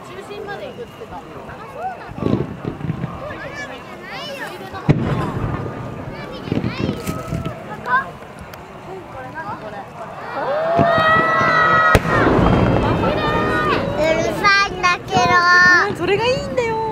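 Fireworks display over Lake Suwa at a summer lakeside festival: several distant booms and crackling bursts, spaced apart, under frequent chatter from children and adults nearby.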